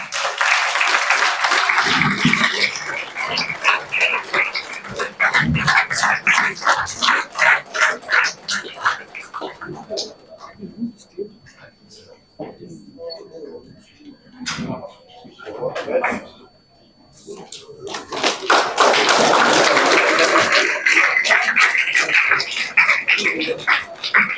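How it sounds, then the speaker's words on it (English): An audience at an award ceremony for Indian Forest Service exam achievers breaks into loud, close applause at the start, fading into the room while a voice talks over a microphone, then swelling again into a second burst of clapping. "Please give a big round of applause."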